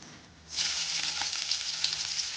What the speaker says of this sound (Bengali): প্রথমে আমি রসুনটা দিয়ে দেবো।